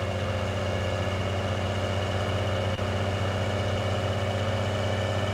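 A tractor or farm vehicle engine in Farming Simulator 19 runs at a steady, even drone with a low constant hum and no talk.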